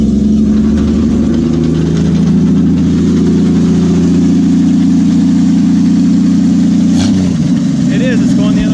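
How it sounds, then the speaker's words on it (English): A Willys truck engine idles loudly while its winch runs in reverse, a steady low mechanical drone with a shifting tone, and someone talks over it. "Put it in reverse and it backs the winch up."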